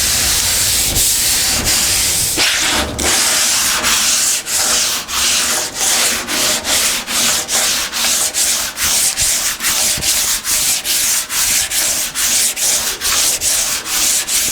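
Sandpaper rubs across a round panel in a steady back-and-forth rhythm with light pressure, a loud close scratchy swish repeating about every half second.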